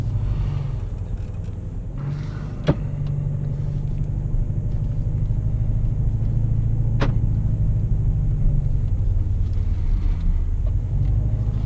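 A 2018 Jaguar E-Pace P250 First Edition climbs uphill under light throttle, its engine a steady low drone and rumble heard from the cabin, with a couple of sharp clicks over the hum.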